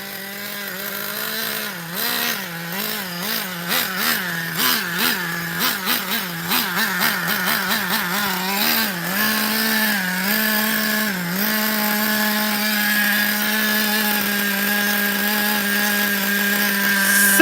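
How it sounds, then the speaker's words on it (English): A nitro-powered REVO RC truck engine revs with a high, buzzy two-stroke whine. It wobbles up and down in short blips at first, then settles into a steady, loud, continuous idle. "Look at that engine idle."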